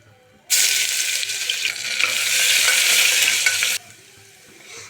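Ground ginger-garlic paste hits the oil for a veg biryani and bursts into a loud, sustained sizzle for about three seconds, with stirring, before it drops back to a quiet simmer.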